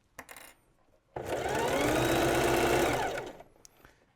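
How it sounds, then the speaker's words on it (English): Sewing machine stitching a fabric collar seam, a couple of brief needle clicks, then a steady close whirring run of about two seconds before slowing to a stop, followed by faint clicks. "we make 2 to 3 stitches back, and then we start our seam"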